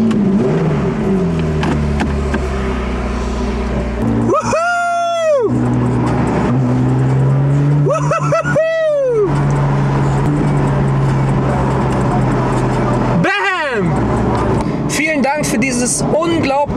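Porsche 911 Carrera S Cabriolet engine starting and running, loud and close, with several sharp revs and a steady idle rumble between them.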